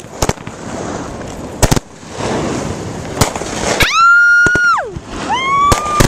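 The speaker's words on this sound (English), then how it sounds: "Our fireworks rule!" Fourth of July fireworks crackle and bang in sharp, loud bursts, with several rising whistling shells screaming overhead and popping, all close by and without talk.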